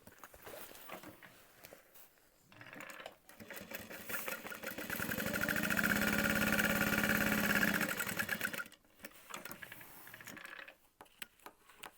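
A sewing machine runs at 80% speed as it stitches the Emma Backpack, a Sincerely Jen Pattern Co design. After a few short starts the motor hums steadily for several seconds, then stops and goes back to brief bursts, heard close.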